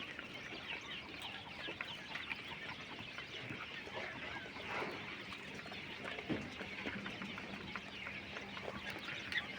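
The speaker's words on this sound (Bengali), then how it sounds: "নিউ অ্যাডাল কিং কোয়েল পাখি দেখতে আসেন" Adult king quail birds calling: a continuous chatter of soft clucking and chirping calls from a group of the birds, fairly close and steady throughout, with no talk.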